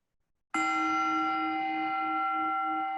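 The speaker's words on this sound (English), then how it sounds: "Noticing the bells come in." A single meditation bell is struck once after a short silence and rings out in a long, steady, sustained tone that slowly fades, with bright overtones clearly audible throughout.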